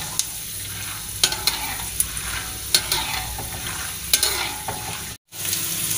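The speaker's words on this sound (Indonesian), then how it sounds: "Kita goreng kacangnya terlebih dahulu" Steady oil sizzle of peanuts frying in a pan, with occasional scraping clicks from stirring and a brief dropout near the end.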